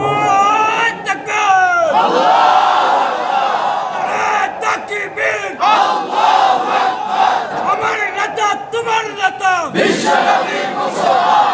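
A large crowd at a religious gathering chants a slogan in unison, loud and reverberant, in repeated rhythmic bursts with rising and falling voices throughout.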